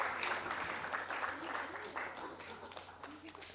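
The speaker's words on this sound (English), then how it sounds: "A round of applause, please, for our first winner of the day from Shamik Bharti for citizen journalism." Audience applause at a citizen journalism award gala as the first winner is called up, a steady wash of clapping filling the hall for several seconds with some voices under it.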